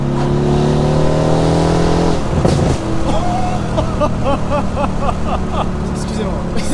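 A Mercedes C63s AMG with a 510 hp engine, heard from inside while driving, rumbles and revs loudly with a deep, rising exhaust note and crackles on the overrun, and voices are heard near the end.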